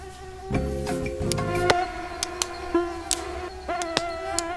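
Mosquitoes buzzing in a forest, a thin high whine that comes and goes close by, with sharp clicks and small ticks scattered through and no talking.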